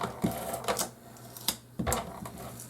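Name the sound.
advanced tape glider applying adhesive to a paper box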